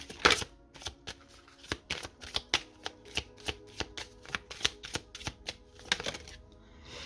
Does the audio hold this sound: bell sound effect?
no